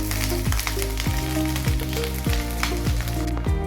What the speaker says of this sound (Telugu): ముందుగా ఉడికించి పెట్టుకున్న బాస్మతి రైస్ అయితే ఫ్రైడ్ రైస్లో యాడ్ చేసుకుంటున్నా